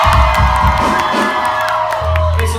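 A concert crowd on a tour cheers and screams loudly for the opening act, with high whoops and shrieks over a pulsing bass beat from the venue speakers.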